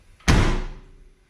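Datsun 280Z car door slamming shut once, a loud close thud with a short ringing decay, heard alone.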